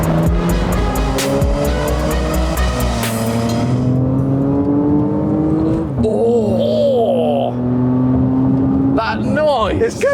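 An SUV engine accelerates hard from inside the cabin, loud and rising in pitch through several gear shifts, with voices breaking in near the end.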